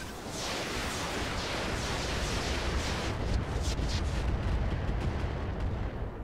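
Sustained, dense volleys of gunfire and artillery in a military shooter video game, a continuous loud roar of overlapping shots and booms with sharp bursts throughout.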